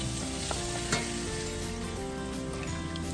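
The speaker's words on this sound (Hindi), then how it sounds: "साथ मेरा प्याज भी ब्राउन हो रहा" Onions brown with mixed spices in a pan while goat liver masala is cooked, giving a loud, continuous close sizzle with occasional light clicks from stirring.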